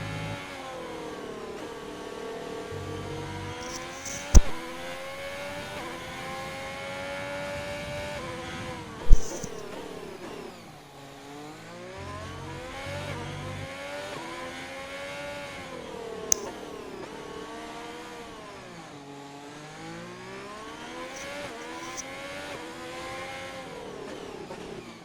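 Onboard race car engine during qualifying at the Hungarian circuit, a high revving engine climbing and dropping through gears in repeated sweeps, with sharp gearshift clicks and brief pops, loud and steady throughout.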